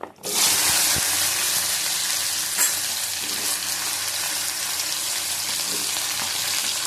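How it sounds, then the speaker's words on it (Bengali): Taro pieces hiss loudly as they hit hot oil with fried tempering spices, a dense, steady sizzle that starts abruptly and holds strong throughout, with faint stirring clinks and no voices. "এটা গাঠি কচুটা দিয়ে দেবো। ভালো করে ফোড়নটা ভাজা হয়ে গেলে ভেজে নেবো ভালো করে।"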